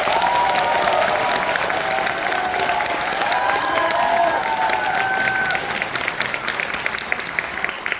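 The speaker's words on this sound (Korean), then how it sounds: "박수로 응답합니다." A crowd applauds at a national assembly policy forum for home long-term care agencies, sustained full clapping from many people with a faint tonal murmur under it, thinning slightly near the end.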